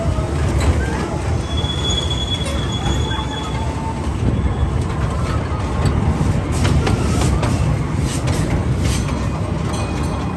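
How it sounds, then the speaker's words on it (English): A small amusement park train runs along its rails, wheels squealing and clicking over a steady rumbling roll, close and continuous throughout. "I'm gonna go get a ride on the little train"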